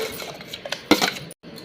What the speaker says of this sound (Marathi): आता कट केलेला आंबा आपण मिक्सरच्या भांड्यात टाकून घेऊयात।